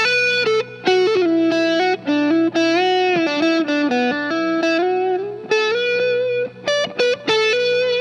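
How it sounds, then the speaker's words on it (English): An electric guitar plays a fluid improvised pentatonic lead line with effects and a light distorted tone, notes bending and sliding, loud and solo. "And we can use that to improvise."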